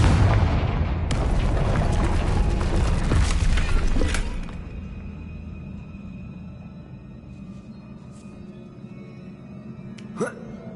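Confringo blasting spell in Hogwarts Legacy, a loud, rumbling explosion burst lasting several seconds before dying down to a quiet background with a faint sharp crackle near the end.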